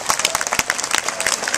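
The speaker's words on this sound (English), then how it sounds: "Let's give a round of applause to our performers" An audience applauds performers after a BIBAK dance and music show at Balboa Park, a dense, loud burst of clapping with some crowd noise.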